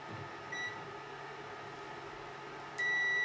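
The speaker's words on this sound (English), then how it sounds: "We're getting a beep every time we have a short circuit." A multimeter's continuity tester sounds a steady high-pitched beep as its probes touch together to short a basic push-button switch circuit, the tone starting abruptly near the end over a low room hum.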